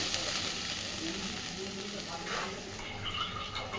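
Steady, dense sizzling and hissing as a little water hits a hot pan to boil down the gravy for chhana kofta, a continuous close crackle with a faint rise in spitting near the end.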